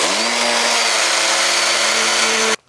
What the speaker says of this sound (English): now that we cut the side of the bucket